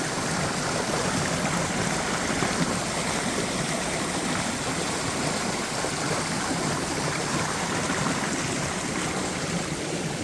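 The waterfall and stream at Nant Mill Woods roar in a dense, loud, unbroken rush of falling and running water, steady throughout with no voices.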